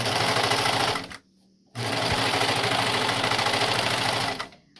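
A serger overlock machine stitches along a fabric edge in a fast, loud, even mechanical whir, running about a second, pausing briefly, then running steadily for nearly three seconds more, close up with no talk.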